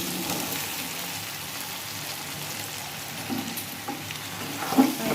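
Boiled jackfruit being stirred with spices in a frying pan, a steady low sizzle and frying hiss with soft scraping stir strokes, a slightly louder clatter near the end.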